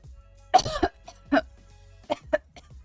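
A single person coughing hard, several separate rasping bursts at uneven intervals, close to the microphone and fairly quiet, with breaths between and no talking.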